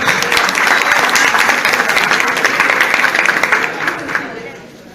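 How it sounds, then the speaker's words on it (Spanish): Audience applause for a professor at a tax seminar on deductible and non-deductible expenses: dense, sustained clapping from a seated crowd that holds steady, then thins and fades toward the end. "Un aplauso."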